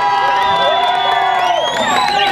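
Organized fan group cheering loudly at a motorcycle race awards ceremony for the SBK 2013 CB 300 class, a dense crowd roar with whoops and high shouted voices rising and falling throughout.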